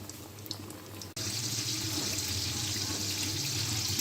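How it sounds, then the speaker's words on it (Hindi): Bread noodle pakoras deep fry in hot oil over medium heat, a steady hissing, bubbling sizzle that swells abruptly after a brief quieter start and then holds even and close to the end. "ठीक इसी तरह इनको डीप फ्राई होने दें"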